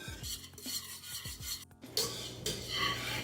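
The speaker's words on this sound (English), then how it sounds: "And keep whisking. Now we can feel the resistance." A whisk works choux dough for mini éclairs in a heavy-bottomed pan, producing close, continuous scraping and rubbing strokes with a brief gap partway, no voices over it.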